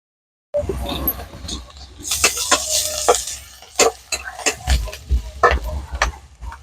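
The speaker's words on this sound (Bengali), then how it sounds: "পেঁয়াজটাকে লাল লাল করে ভেজে নেব।" Chopped onions frying in a pan with ground coriander: a soft sizzle under a series of sharp, irregular scraping and clattering stir strokes, close and fairly loud.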